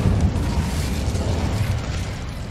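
Incendio fire spell in Hogwarts Legacy, a steady roaring blast of flame that fills the whole stretch with dense low rumble and crackle, loud and continuous.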